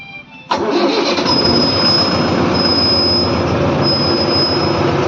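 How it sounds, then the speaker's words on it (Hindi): A Mahindra Novo 755 DI tractor engine cranks and catches, then settles into a loud, steady diesel rumble with a high whine running over it. "आप ये देखिए ट्रैक्टर की आवाज़ कितनी"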